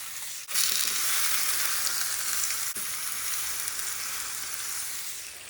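Cube steak, a tough cut that has been tenderized, sizzles steadily in a hot pan, a loud continuous hiss of frying fat that hardly changes throughout, with no voices.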